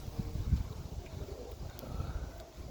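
Wind buffets the microphone outdoors on a windy day, producing a low, uneven rumbling gust that stays fairly quiet and continuous with no talking.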